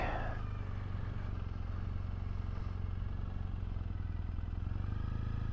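A Triumph Bonneville T100 motorcycle engine idles and putters at low speed through a tight U-turn about two parking spaces wide, a steady close rumble that runs throughout.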